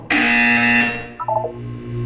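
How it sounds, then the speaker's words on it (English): A loud electronic buzzer from the video game Portal 2 sounds once, holding steady for almost a second, then short tonal chimes follow with a low hum underneath. "When you hear the buzzer, look down at the floor."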